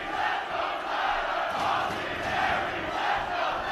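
A dense wrestling crowd roars and chants at a Ring of Honor world title match, the sound swelling and ebbing in a steady back-and-forth rhythm.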